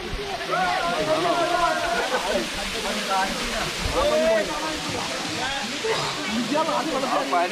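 Thusharagiri waterfall in Kerala rushes continuously in the background while people talk over it nearby.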